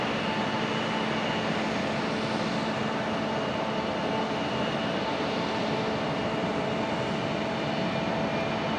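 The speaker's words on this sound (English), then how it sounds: "There we go, early rotation for our 76. Beautiful sounding departure." A jet airliner takes off at Raleigh-Durham International Airport, its engines a loud, steady roar with faint tonal whine that holds constant throughout.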